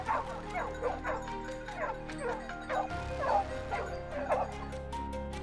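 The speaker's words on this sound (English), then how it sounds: "paired with a team of elite hunting dogs" A team of hunting dogs in a dense mountainside forest on a wild boar hunt barks and yips repeatedly in a rapid, excited chorus, mid-distance and fairly faint, with some whimpering between barks.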